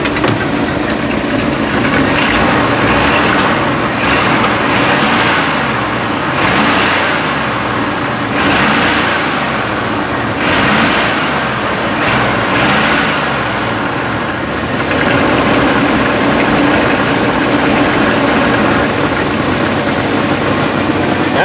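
A 1976 Dodge Amerigo motorhome engine idles steadily and is revved several times, the surges rising and falling over a continuous low rumble, loud and close with no talk.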